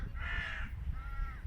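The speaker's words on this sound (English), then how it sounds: "Or it's just some other bird calling." Two harsh caws from a crow ring out outdoors at Delapré Abbey. The first is longer and the second follows after a short pause. They sound moderately near over low rumbling wind noise, with no talking.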